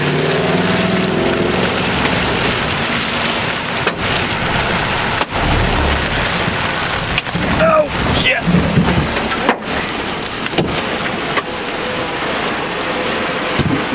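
Steady heavy rain roars continuously, broad and loud, with occasional thumps and knocks over it.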